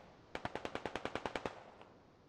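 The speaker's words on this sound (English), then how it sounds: "I don't know what they're shooting at." Distant automatic gunfire in a military shooter game: a rapid, evenly spaced burst of about twelve sharp shots, fairly faint, followed by one softer trailing report.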